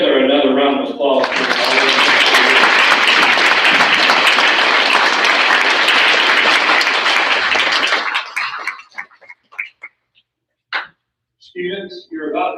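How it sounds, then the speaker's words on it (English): At a sixth grade awards ceremony, the audience gives a loud, sustained round of applause lasting about seven seconds, then it fades to scattered claps as a speaker's voice returns near the end. "let's give each other another round of applause"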